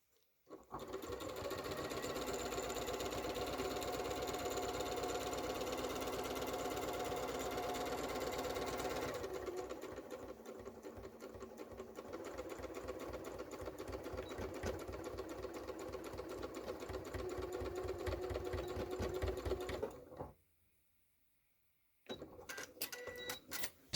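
A sewing machine stitches a Rochelle dress with a zipper, running as a fast, steady mechanical whir with rhythmic needle ticking that slows partway through, then stops briefly and restarts near the end.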